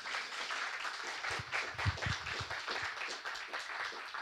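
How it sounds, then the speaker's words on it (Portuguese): Audience applause for guest speakers at the close of a Metrô forum panel on art direction, a steady wash of claps lasting several seconds at moderate level, with a few louder hits near the middle. "Palmas para elas."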